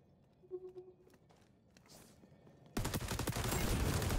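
Gunfire in the XDefiant first-person shooter game: a quiet stretch of faint steps and scuffs, then a loud, dense burst of rapid automatic shots that runs without a break to the end.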